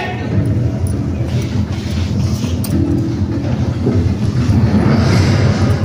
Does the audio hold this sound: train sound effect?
yes